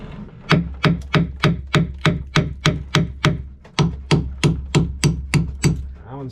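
Metal hammering on a stuck, rusted interior chainplate of a sailboat: about sixteen loud, sharp blows in a steady rhythm, with one short pause partway through.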